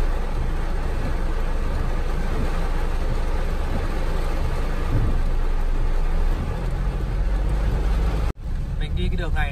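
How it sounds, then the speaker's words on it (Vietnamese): Heavy rain pours on a road in Japan during a commute, a loud continuous hiss and roar with deep low rumble, briefly cut near the end before resuming. "Mưa kinh khủng thật đấy."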